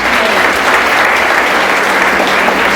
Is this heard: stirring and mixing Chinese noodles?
no